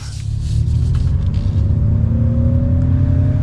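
A 2022 Ford F-150 Lightning electric pickup accelerates hard, its steady low rumble and whir joined by rising electric motor whine that climbs continuously, loud and close with no talk.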